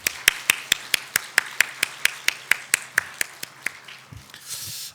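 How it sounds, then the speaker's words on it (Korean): A church congregation claps during a Korean Christmas worship service: crisp, evenly spaced rhythmic claps in unison, about twenty beats that slow slightly, then give way to a soft wash of scattered sound. "이 박수로 하나님께 영광 올리겠습니다."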